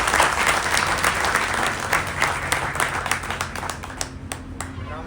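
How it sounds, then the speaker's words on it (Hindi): Audience applause at a crowded public gathering, dense and steady clapping from many hands that gradually thins toward the end, with a few louder individual claps standing out near the close. "जोरदार तालियां"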